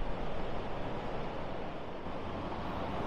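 Wind blowing outdoors by a canal basin at Langley Mill, Derbyshire, a continuous broadband rush with heavy low buffeting close to the microphone and no speech.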